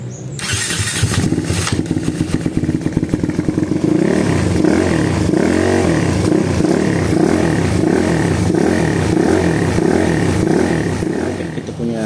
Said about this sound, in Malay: motor dah hidup tapi kena setting lain.